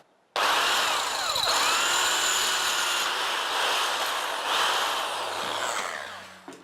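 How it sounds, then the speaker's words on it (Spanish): Power drill boring a pilot hole into metal, a steady high whining grind that starts abruptly and runs continuously for several seconds, close and loud, before winding down. "en metal hay que hacer un agujero previo, igual que en la madera"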